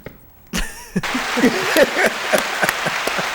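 Audience applause breaking out after a short quiet start, a dense burst of clapping with scattered cheers and voices mixed in, fairly loud and close.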